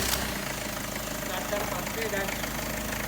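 A diesel engine runs at a steady, low idle after its glow plugs preheat, a continuous deep rumble with a faint knocking texture beneath a voice talking throughout.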